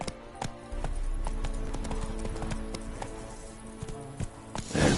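Roach, the horse in Witcher 3, trots along with steady rhythmic clip-clop hoofbeats, moderately close, over a soft background ambience and ending in a louder rustle.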